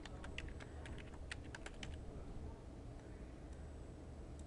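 A password is typed on a computer keyboard as a quick burst of faint key clicks, then a few scattered taps, over a low background hum.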